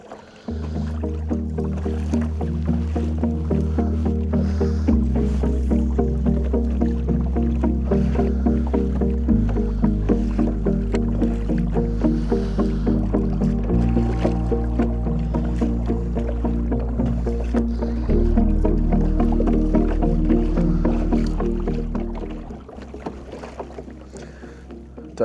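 A kayak glides across the Waranga Basin while a lure is trolled behind it, giving a continuous, fairly loud low droning wash with steady water movement and no talking.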